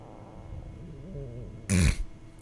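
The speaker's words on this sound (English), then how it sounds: "Why does that sound like they actually recorded someone's stomach growling" A recorded stomach growl in the Genshin Impact game gives a low, wavering gurgle that ends in a short loud rumble, alone with no talk.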